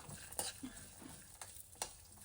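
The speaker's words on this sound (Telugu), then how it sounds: "ఇప్పుడు ఇందులోకి పల్లీలు కూడా వేసుకొని దాన్ని కూడా ఒక రెండు మూడు నిమిషాలు వేయించుకుందాం" Peanuts dry-fry in a pan, a faint sizzle with a few soft stirring scrapes and light rattles, quiet and close with no speech.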